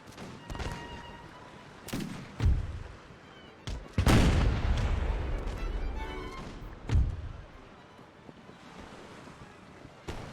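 Musket volleys from soldiers on a ship's deck in the Empire Total War naval battle, heard as scattered sharp bangs followed by a long rumbling blast amid wind and surf.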